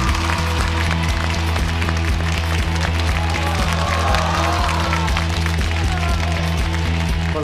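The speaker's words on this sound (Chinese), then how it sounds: "掌声有请沈腾玛丽。" Studio audience on a Chinese TV talk show breaks into sustained applause as two comedian guests are welcomed on stage, a steady dense wash of clapping lasting throughout with crowd noise.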